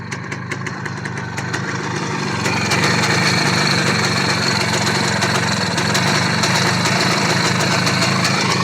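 A carbureted engine running steadily after a new carburetor was fitted, a close, even idle hum that rises slightly in level and then holds, with no talking.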